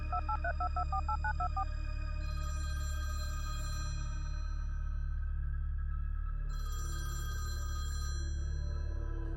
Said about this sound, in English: He picked up the phone and punched in the numbers from the card and waited.